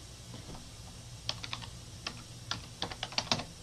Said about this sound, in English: type in Dictanote